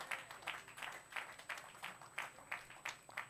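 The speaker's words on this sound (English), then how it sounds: "Let's clap and give Jesus praise." A church congregation claps in a steady, rhythmic beat at a moderate distance, about three claps per second, with no voices over it.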